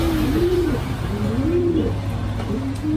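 A Taiwanese racing pigeon in moult coos close by in a series of about four rolling, throaty calls, steady and clear over a low background hum.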